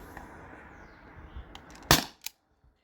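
A T4E HDP50 or TR50 air pistol fires a single sharp, close crack, followed shortly by a smaller click-like report against a faint background hiss.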